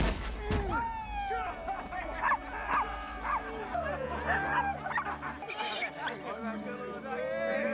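A dog barks, yips and whimpers in a tense street confrontation, sharp bursts rising through a dense, loud scene of shouting voices and background commotion.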